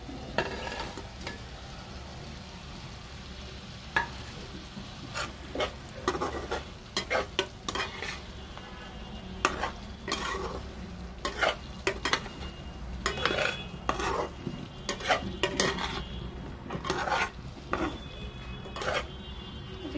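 Fish fries in a pan with spices in a sustained sizzle, close by, broken by frequent clanks and scrapes of a utensil on the pan, with no voices.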